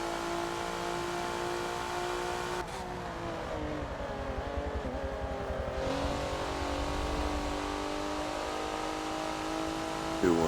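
Race car engine in the Forza video game at Road Atlanta, droning steadily with shifting pitch as the throttle opens through a corner, loud and continuous throughout with no talk.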